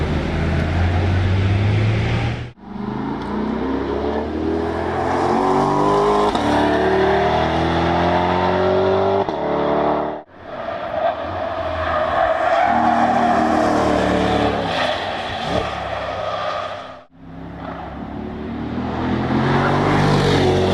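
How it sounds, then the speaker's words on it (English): Chevrolet Corvette C8 E-Ray test cars roar past on a race track one after another, engines loud and close with tires squealing, each pass cut by a brief gap before the next. "We see multiple E-Ray cars out on the track doing their testing."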